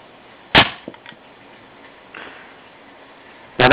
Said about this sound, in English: that bang you heard was the projectile hitting the piece of paper